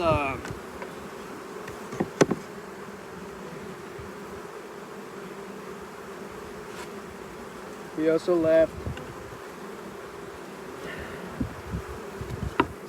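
Honeybees hum continuously at an open beehive during an inspection, a steady drone with occasional louder buzzes as individual bees pass close to the microphone.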